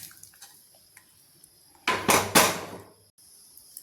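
Fried curry leaves are tipped from a pan into a vessel in one brief, loud, rattling rush lasting about a second, with faint clinks of utensils before and after.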